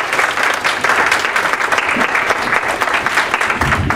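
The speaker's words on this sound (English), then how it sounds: "Please follow me in a round of applause" A room full of people applauding steadily, dense clapping sustained throughout at a loud, even level.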